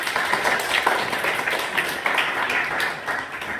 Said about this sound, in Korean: 여러분들 박수 치는 거 보니까